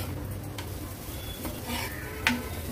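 Spinach parathas roast with oil or ghee on a pan over a medium gas flame, giving a low steady sizzle with soft scraping and a brief clink near the end.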